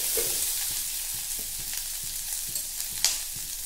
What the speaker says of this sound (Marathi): कांदा असा मऊसूर करून घेते मी आता।